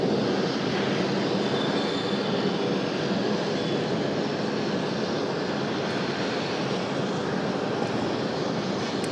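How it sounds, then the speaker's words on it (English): A Delta jet departs Raleigh-Durham (RDU) airport, a steady, broad, rushing roar of engine thrust that holds constant throughout with no talk. "Going to have our first departure here. Sounds like Delta might be ready to go."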